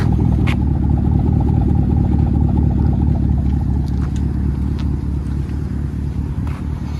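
A Chevy Camaro SS convertible with a 6.2L V8 and true dual straight-pipe exhaust idles close by, a loud, steady, deep rumble with a slight lope that holds for the whole stretch.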